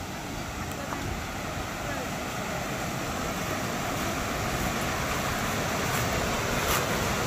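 Water running down a channel beside the Muang Kham hot spring in Xiangkhouang, Laos, a steady broadband rush that holds level throughout with no breaks.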